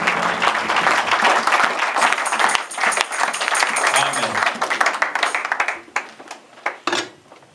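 A worship congregation applauds and cheers the Lord, loud dense clapping and crowd voices filling the space, thinning into scattered claps near the end.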